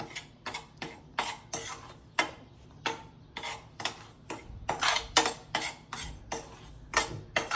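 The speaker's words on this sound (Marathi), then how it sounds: "आता हा रवा चांगल्या पद्धतीने भाजला गेलेला आहे." Semolina (rava) dry-roasting in a pan for suji halwa, with a spoon scraping and clinking against the metal in a steady run of short, close, distinct strokes.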